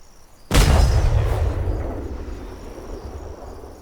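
A ship's front cannons fire once in the game Atlas, a loud booming blast followed by a long rumbling decay that fades over several seconds, with no talking.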